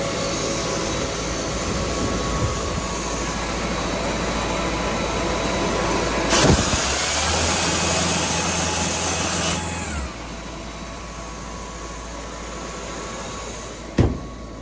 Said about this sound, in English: Very good running, working compressor, guys.